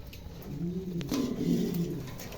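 A pair of pigeons coos close by, giving soft, throaty, repeated murmuring calls that swell and fade over a quiet background.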